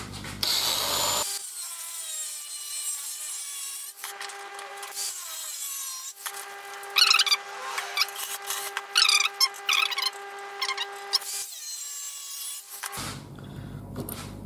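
Metal bracket clamps for an Africa Twin CRF1000 windscreen and GPS mount are cut in half, with a steady rasping saw stroke running for several seconds, close and fairly loud, with no speech.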